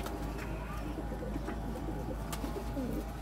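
Pigeons coo softly in a loft, making low repeated throaty calls over a constant low hum, with faint rustling and a few sharper clicks.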